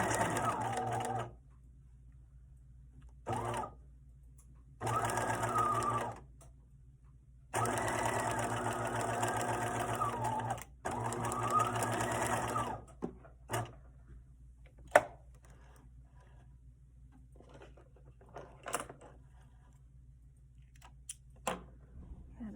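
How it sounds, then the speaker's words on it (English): A sewing machine stitches a fabric pocket for a zip wallet, running in several steady bursts with short pauses and a back stitch, followed by quieter clicks and handling sounds. "I'm going to take a couple of stitches, take a back stitch, and continue on."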